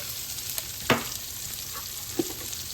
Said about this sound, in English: Just put them in there in the skillet to start blistering the skin.